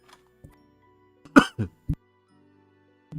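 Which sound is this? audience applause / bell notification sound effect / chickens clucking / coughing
coughing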